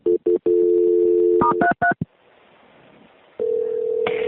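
Telephone keypad tones beep as a 911 dispatcher dials to transfer a call, a quick run of short beeps and one long tone, a pause with faint line hiss, then a steady ringing tone.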